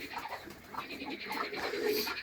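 Pigeons coo softly in a quiet, repeated low burble, close by and continuous over a faint background.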